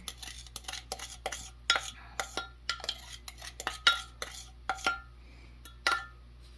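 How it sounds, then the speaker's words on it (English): A spoon or utensil stirs yeast and sugar into a bowl of fresh ground flour dough for pizza crust, giving a series of short scraping clinks against the bowl in an uneven rhythm, close and fairly quiet. "we'll just start giving this a stir"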